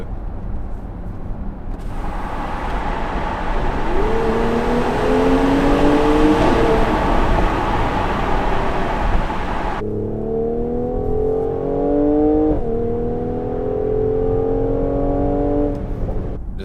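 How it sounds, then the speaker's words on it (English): A Mercedes-AMG GLC43 Coupe SUV engine revs up loudly with a rising high-pitched whine, easing off, then climbing again through the gears, close and sustained. "it does have this sort of high pitch whining sound, which kind of you tend to associate with like racing cars"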